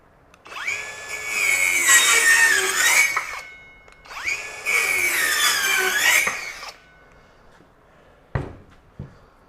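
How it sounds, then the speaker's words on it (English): A Masterforce 20V brushless 4-1/2-inch ultra-compact circular saw cuts through 2x lumber in two loud, close whining passes of about two seconds each, each spinning up and winding down, followed by a couple of sharp knocks. "We'll make a couple of cuts in some 2x material as well."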